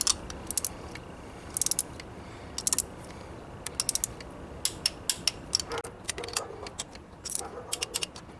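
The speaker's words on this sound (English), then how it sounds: "Once you hear that click, that tells you that the plug is now torqued" Torque wrench ratcheting while tightening a spark plug on a Volvo S70, a quiet series of sharp, irregular mechanical clicks and ratchet bursts, close up in a quiet setting.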